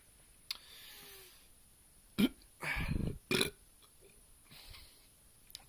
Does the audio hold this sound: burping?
yes